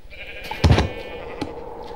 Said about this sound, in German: Okay, Gunnar hat sein blaues Schaf.